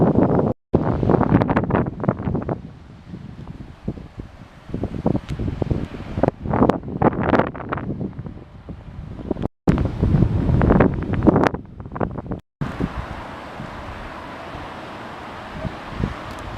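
Strong gusty wind on a coastal path near Sunderland, England, buffets the microphone, roaring and rumbling in uneven bursts with brief drops to near silence.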